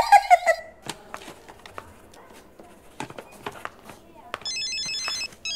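A mobile phone rings in a hospital ward, its electronic tone sounding in bursts amid footsteps and clatter, with a voice speaking near the start.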